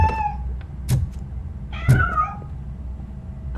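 A cat meows twice in the video game RoboCop Rogue City, two short, clear, close calls separated by a pause, heard alone over a low ambient hum.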